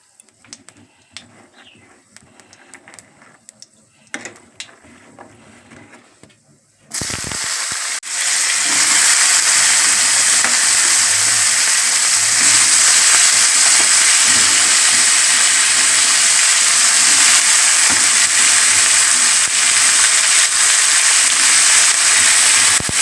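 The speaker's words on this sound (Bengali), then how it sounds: "গোটা জিরে আর এলাচ লবঙ্গ দারচিনি দিয়ে দিলাম ফোড়ন হিসাবে" After several seconds of quiet kitchen background, whole cumin, cardamom, clove and cinnamon drop into hot oil and burst into a loud, steady, hissing sizzle that continues evenly to the end, close up and without voices.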